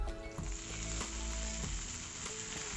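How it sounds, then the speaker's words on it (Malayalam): Cashews and raisins roasting in a hot pan with oil, a steady close sizzle and frying crackle running continuously with occasional soft stirring knocks. "അപ്പോൾ ഞാനിവിടെ അണ്ടിപ്പരിപ്പും അതുപോലെ മുന്തിരിയും ചേർത്ത് കൊടുത്തിട്ടുണ്ട്. അതും ഒന്ന് റോസ്റ്റ് ചെയ്തെടുക്കാം."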